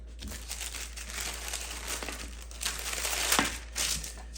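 Parchment paper is folded in half and in half again for a Hungarian dessert, giving soft, quiet crinkling and rustling that continues throughout with a few slightly sharper creases.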